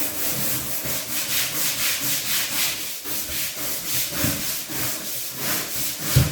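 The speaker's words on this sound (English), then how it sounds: "I'm just gonna start by scrubbing" Bathroom wall tiles being scrubbed with a brush along the tile pattern, a steady rhythmic back-and-forth rubbing that stays close and continuous with no talking.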